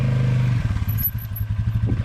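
A Polaris Sportsman 450 ATV fitted with an EPI clutch kit pulls away, its engine a steady low rumble with rhythmic pulsing close by, no voices.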